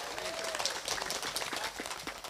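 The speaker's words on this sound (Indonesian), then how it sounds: "Tepuk tangan dulu dong buat orang Islam." A crowd at an Islamic religious gathering and halal bihalal claps together in a dense burst of applause, moderately loud and steady throughout the short clip.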